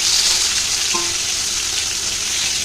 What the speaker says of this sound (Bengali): তো পটলটা ভালো করে ভেজে নেব।